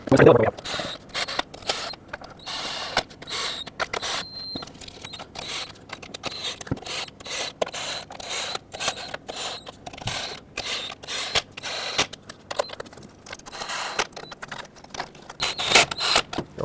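Valve cover bolts on a 2007-2010 Chrysler Sebring 2.4L engine being snugged up with a ratchet, giving quick repeated clicks of the pawl and small metallic taps, fairly close, over a low background hum.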